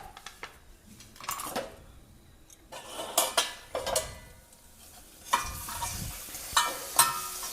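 Spices stirred while frying in a pan for a rohu fish curry, with irregular scraping and clinking strokes of a spoon against the pan over a soft sizzle, close and moderately quiet.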